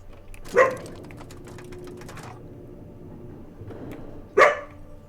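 A dog in the video game The Outer Worlds gives two sharp barks several seconds apart over a low, quiet ambient hum.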